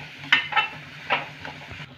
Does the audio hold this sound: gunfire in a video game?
no